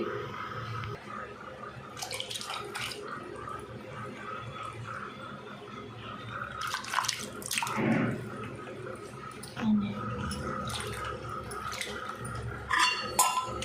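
Small raw fish are washed by hand in water, giving intermittent close splashes, sloshing and dripping with a few louder bursts of handling, no talk over it.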